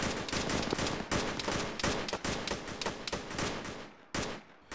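Gunfire in Arma 3, rapid loud close-range bursts and repeated shots in quick succession, a dense rattling volley with brief gaps and no voices.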